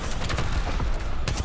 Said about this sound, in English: I'm shooting him